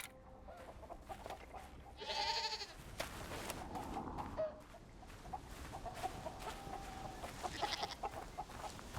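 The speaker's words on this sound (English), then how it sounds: "Goats." Video game goats bleating nearby alongside clucking chickens, with a loud bleat early on and more calls scattered over a busy farmyard background, in Indiana Jones and the Great Circle.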